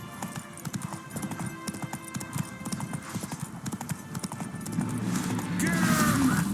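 Hooves clip-clop in a steady galloping rhythm from a horse ridden in The Witcher 3 game, close and continuous, with a brief whinny near the end and game music and shouted voices mixed underneath.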